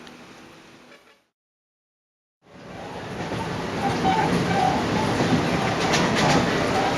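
Rumble of a passenger train riding from Carita to Bogor in Indonesia, heard from inside the cabin. A steady rolling din cuts to a brief near-silence, then returns louder and continuous with faint rattling, and no one speaks.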